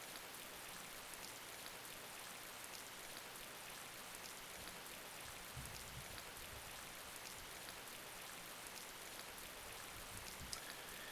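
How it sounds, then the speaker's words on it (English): Steady rain falls in the video game Fallen Star, a dense, even hiss of drops with no pauses, soft and constant throughout. "It starts raining on the way to"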